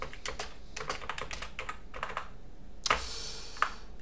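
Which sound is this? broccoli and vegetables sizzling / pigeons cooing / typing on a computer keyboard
typing on a computer keyboard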